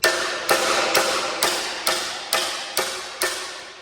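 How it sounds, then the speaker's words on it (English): Hammer blows knock small copper tubes out of a fitting on a Fiat 509 vintage car being fitted with a WW2 aeroplane engine: eight sharp metallic strikes, evenly spaced about half a second apart, close and loud with no voices. "I'm literally just smashing them out with a hammer"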